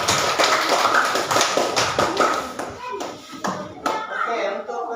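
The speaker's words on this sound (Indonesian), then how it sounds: "Tepuk tangan untuk kelompok B." A classroom of children claps for a group of classmates with a brisk burst of fast, close hand claps that thins out after a few seconds, leaving scattered taps under talk.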